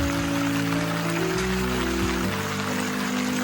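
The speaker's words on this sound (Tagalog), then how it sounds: "Ulan na talaga siya." Steady rain patters on a surface, a continuous hiss of drops alongside a sustained low hum, with no talking.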